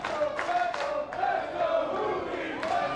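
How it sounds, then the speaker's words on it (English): Wrestling crowd at a lucha libre show splits into rival chants for two luchadors, rhythmic massed voices rising and falling in repeated bursts, loud and continuous. "the crowd split here between the two as the chants of Let's Go Fuego and Let's Go Juvi"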